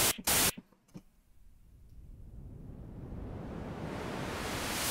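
An analog synthesizer produces white noise: a steady hiss that swells gradually louder to the end, after a few sharp clicks at the start.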